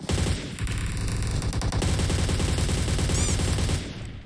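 Sustained automatic gunfire rattles loudly and continuously in PUBG Mobile, rapid overlapping shots filling the scene before cutting off near the end.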